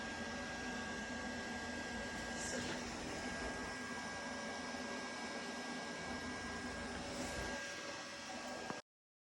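DC TIG welding on 11-gauge mild steel at 103 amps with a cheap welder: a steady, even hiss and buzz from the arc that holds constant for about nine seconds and then cuts off abruptly.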